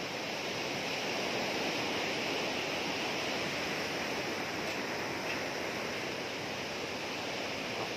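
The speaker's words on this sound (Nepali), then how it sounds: "पानी परिरहेछ पारिपट्टितिर नि यहाँतिर नि सिमसिम परिरहेछ" Light drizzle falling over a Nepali village makes a steady, even hiss of fine rain, close and unbroken for the full length with no voices.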